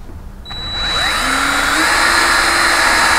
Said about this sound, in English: drill approximately 3/4 of an inch deep down into the frame